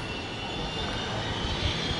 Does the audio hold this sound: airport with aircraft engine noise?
yes